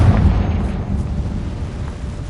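A Confringo fire spell explosion in Hogwarts Legacy, a loud, deep booming burst at the start that rumbles and fades over a couple of seconds, heard alone without speech.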